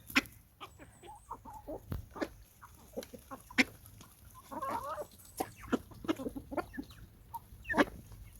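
Chickens cluck on a homestead in short, scattered bursts, some near and some farther off, with quiet gaps between the calls and no talking.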